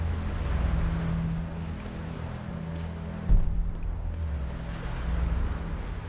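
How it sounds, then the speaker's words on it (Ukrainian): Wind blowing between cliffs in a Tomb Raider game, a steady hollow gusting rush with low rumble and one brief louder thump, continuous and alone. "Хоча, скоріше всього, тебе піднесе цей вітер."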